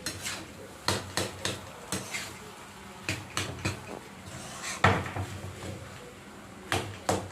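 A spoon scraping and clanking against a pan while mixing pav bhaji vegetables with pav bhaji masala and garam masala in a home kitchen, in irregular sharp metallic knocks at a moderate distance, with no talking.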